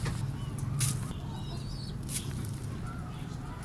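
Caged chickens, including a white rooster, make intermittent clucks and short calls close by, with brief bursts of flapping or rustling over a steady low background.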